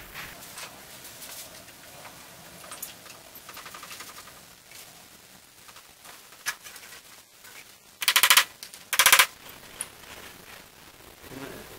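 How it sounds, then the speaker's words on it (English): Screwdriver or chisel tapped against the edge of rusty screws during disassembly of a 1966 Mustang convertible: two quick bursts of rapid metallic tapping near the end, after quieter scattered clicks and handling. "you can take a screwdriver or a chisel and kind of tap on the edge, and that'll free up the rust"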